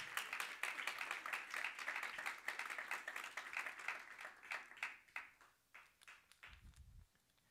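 Congregation clapping for the Lord during a Spanish-language church service, a dense steady patter of many hands that thins into scattered claps near the end.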